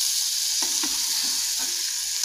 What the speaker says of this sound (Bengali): এইবারে আমি এটাকে নাড়ব।